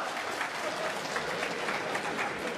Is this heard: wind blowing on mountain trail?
no